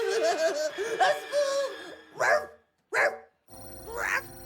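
Cartoon dog barks from a character stuck in a dog's body, shifting between chihuahua, fox terrier and bulldog forms: several short, loud yelps and barks in separate bursts with brief silences between, over a busy animated soundtrack.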